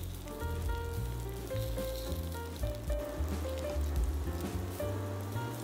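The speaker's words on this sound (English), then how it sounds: "Now, when the pan is already hot, we add the seasoned shrimp that we had reserved." Seasoned shrimp sizzle and fry steadily across a hot pan, a dense, continuous crackle with faint scraping and stirring, no voices.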